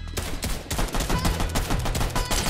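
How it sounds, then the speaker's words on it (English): Dense, loud gunfire in the video game Fortnite during a tournament match, rapid overlapping shots and impacts filling the whole stretch with constant action noise. "Shoot him out of the air now."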